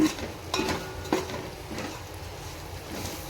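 Masala spices are stirred in a cooking pan for tomato rice, with a few sharp utensil scrapes and knocks over a low, soft sizzle, heard close up.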